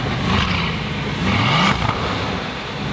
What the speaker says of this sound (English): He's interrupting you there, revving the Veyron.